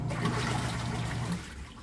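An automatic washing machine, just repaired of an F1 error, fills with water in a steady loud rushing stream that eases slightly near the end.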